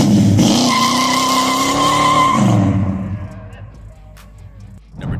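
A 1969 muscle car roars loudly with squealing tires for about three seconds, then the engine note fades away into quieter background sound.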